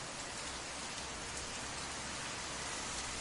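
Steady, dense rain falling continuously without pause, a close and even hiss of drops spread across a wide band, with no voices or thunder.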